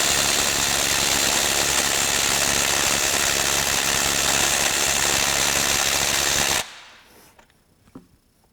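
A Ryobi 18V ONE+ HP compact brushless 4-mode 3/8-inch impact wrench hammers loudly and steadily for about six and a half seconds while loosening a nut, then stops abruptly, leaving quiet handling clatter.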